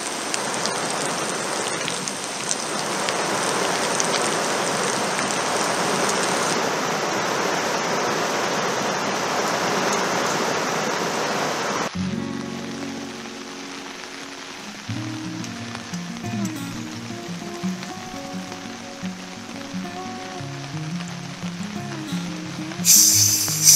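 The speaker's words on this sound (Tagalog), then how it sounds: "Naririnig nyo naman, talagang lakas ng ulan." Heavy rain pours steadily onto a campsite in Sta Maria, Laguna, a dense continuous hiss for about twelve seconds that then drops to a lighter patter beneath music.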